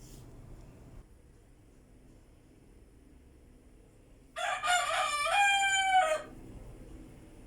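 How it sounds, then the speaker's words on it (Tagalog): A rooster crows once, loud and nearby, a drawn-out call lasting a couple of seconds against quiet background. "tumilaok na yung manok guys"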